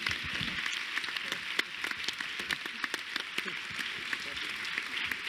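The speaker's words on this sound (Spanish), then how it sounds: "Y un aplauso para vosotros." Audience clapping at a wine forum session, a fairly quiet, steady wash of many hands heard from a distance, with a few sharper individual claps standing out.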